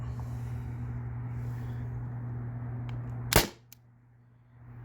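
A modded T4E TR50 blaster fires a single MCS Devastator round: one sharp, close pop cutting through a steady low hum, followed by a faint tick and quieter background.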